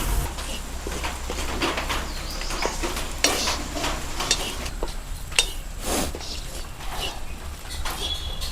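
Grated coconut roasts in a pan with onions, with a low steady sizzle under irregular spatula scrapes and light clinks, fairly close and moderately quiet.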